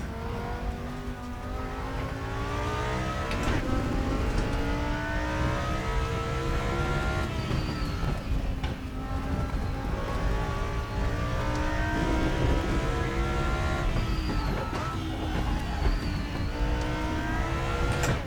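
A GT2 race car engine at Watkins Glen in the RaceRoom racing game, roaring loud and continuous as it revs up through the gears, drops on each shift and climbs again, with a whining drivetrain, no voices.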